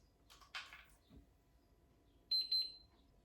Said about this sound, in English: this should flash and then have 2 beeps